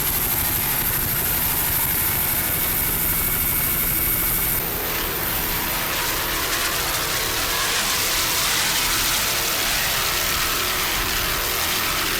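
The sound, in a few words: 40-foot Hustler offshore powerboat engine racing on Lake Michigan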